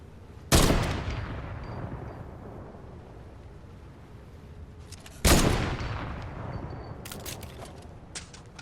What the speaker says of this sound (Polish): To był podwójny strzał z jednego magazynka.